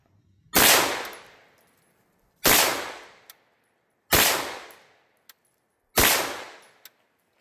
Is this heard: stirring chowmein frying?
no